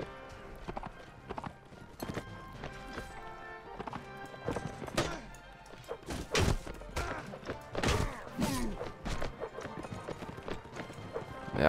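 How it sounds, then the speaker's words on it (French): Horses gallop in the video game Mount and Blade Warband, with repeated hoof clip-clops and thuds, a few whinnies and heavier impacts, all fairly close and busy throughout. "En plus, c'est des chevaux qui traînent partout, qui arrêtent pas de galoper."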